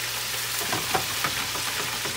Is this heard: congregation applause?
no